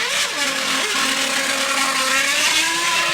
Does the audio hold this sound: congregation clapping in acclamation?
no